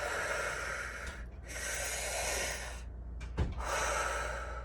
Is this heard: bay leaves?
no